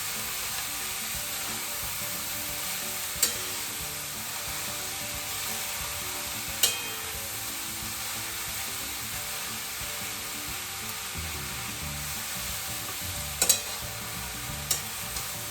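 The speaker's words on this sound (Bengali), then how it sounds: "জাস্ট তেলের মধ্যে নুন দিয়ে ফ্রাই করি" Vegetables for momos fry in oil with salt, giving a steady sizzle with continuous stirring and a few sharp knocks against the pan, close and without talk.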